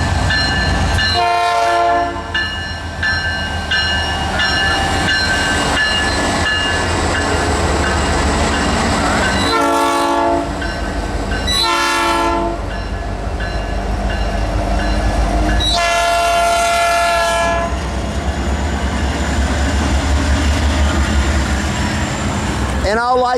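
Norfolk Southern intermodal freight train passing at Cherokee with a heavy rumble of wheels and cars, its horn sounding in several long blasts; someone talks over it.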